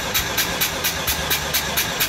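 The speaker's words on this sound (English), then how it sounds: "crank the engine" A 13B rotary engine cranks over on the starter during a compression test, giving a steady rhythmic whir with evenly spaced pulses about every quarter second, loud and close, with no talk.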